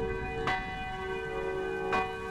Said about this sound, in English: The bells above me rang with a loud peal